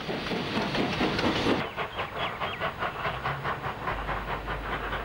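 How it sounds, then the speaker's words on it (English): A steam locomotive hauls a special train near Woolbrook in New South Wales, its steady rhythmic chuffing and hiss heard from a middle distance with a low rumble beneath, no voices. "Five 26 hauls the special single-handed on the approach to Woolbrook."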